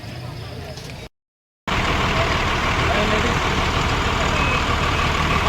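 A sleeper class bus engine rumbles loudly and steadily on the road from Nashik, with a brief dropout to silence before the drone resumes.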